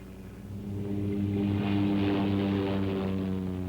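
A Lockheed Cheyenne compound helicopter with a rear propeller flies past: a steady droning engine and rotor hum with strong tonal harmonics swells in and holds, loud and alone.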